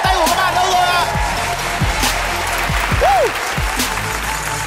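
Crowd clapping at a live pop concert, loud and continuous, with a singer's voice and musical tones layered over it and some sharp thuds and sweeping sounds mixed in.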